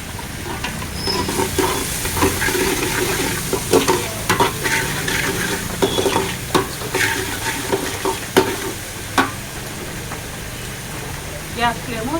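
Green chillies and onions fry in a pan for Telangana-style chicken tomato curry, a loud continuous sizzle with brisk, repeated stirring scrapes and clanks of a spoon, while a voice talks over part of it.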